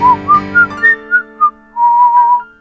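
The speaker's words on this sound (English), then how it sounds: "she whistles a short tune" A person whistles a short tune alone, a run of about six separate bright notes stepping upward, then one longer held warbling phrase, clear and close.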